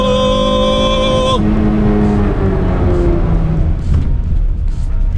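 An Acura Type S car engine screams high in the rev range, then drops sharply and settles into a lower, rougher drone that fades slightly, loud and close, with a brief spoken word near the end.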